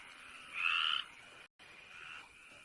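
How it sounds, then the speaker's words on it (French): Frogs croaking near water, one strong rasping call followed by a briefer, quieter one after a short pause, set against a faint background with nobody speaking. "J'entends rien avec ces saloperies de grenouilles."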